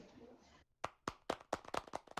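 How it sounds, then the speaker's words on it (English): Conference audience at a sports event gives a small round of applause: after a brief murmur and a pause, sparse, distinct hand claps ring out one after another, close and sharp, a few people rather than a crowd. "Please, a round of applause for him."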